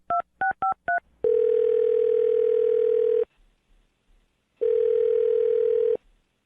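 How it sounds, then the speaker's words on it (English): A telephone number is dialed: four quick dual-tone beeps, then two long, steady electronic tones with a silent gap between them, clean and close. "I'm going to dial her phone number right now"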